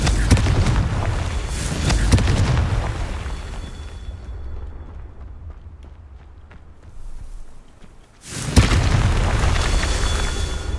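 Confringo fire spell explosions in the video game Hogwarts Legacy: a loud, deep, rumbling blast that fades into a quieter tail, then a second sudden heavy burst.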